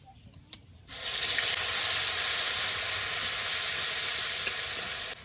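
Onion paste drops into hot oil with whole cumin, cinnamon, cardamom and cloves, bursting into a loud, steady sizzle that holds close and continuous after a few faint clinks.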